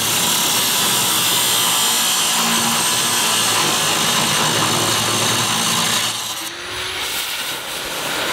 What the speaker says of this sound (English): I'm going to extend the cuts with the angle grinder a little bit more